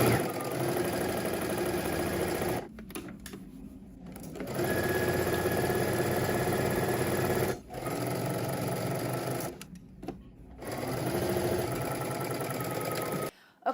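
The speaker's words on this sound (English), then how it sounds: "let's head to the sewing machine. We're gonna stitch the side seams of our skirt" A sewing machine runs in fast, even bursts while stitching the side seams of a skirt, pausing briefly several times between long runs of rapid mechanical whirring.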